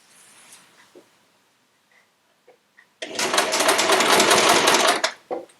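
Sewing machine stitching a quilt seam, a dense continuous whirring run of about two seconds, loud and close, preceded by faint handling clicks and quiet rustling.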